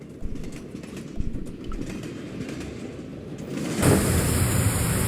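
A video game train rumbles steadily along with rhythmic clattering, then the noise swells louder near the end as the sound opens up.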